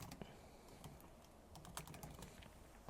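Quiet, rapid keystrokes on a computer keyboard, an irregular patter of light clicks typed close by with no other sound.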